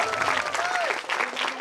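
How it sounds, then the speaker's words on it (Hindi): Applause at a Hindi poetry gathering in honour of two film figures: a brief, busy burst of clapping from a seated audience, with some voices and a whistle-like tone rising faintly through it. "आप उन दोनों के सम्मान में एक बार तालियां बजा दें।"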